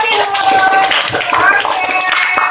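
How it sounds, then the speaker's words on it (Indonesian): Classroom clapping from a group of students, a busy patter of hands mixed with children's voices calling out over it, moderately loud and close throughout. "tepuk tangan untuk Pak Tinur"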